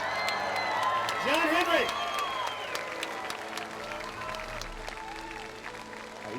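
Crowd applause and cheering at the unveiling of a John Henry statue at Santa Anita racetrack, steady clapping with whoops under a man's nearby speech throughout.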